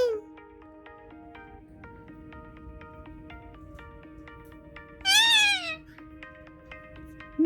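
Sky the parrot gives a single drawn-out, cat-like meow imitation partway through, loud and close against quiet background tones.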